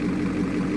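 An LBZ Duramax diesel pickup engine idles steadily just after an exhaust repair, a continuous low rumble close by with no talking.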